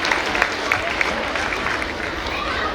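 A school annual day audience claps to welcome a poet at an Urdu mushaira, with dense, sustained applause filling the room at an even level, punctuated by a few sharper claps.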